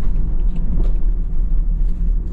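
A 4x4 SUV fitted with a swapped BMW M5 Competition engine rumbles deeply and steadily, its low-pitched drone continuous and close throughout, with no talking.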